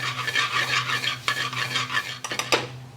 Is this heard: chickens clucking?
no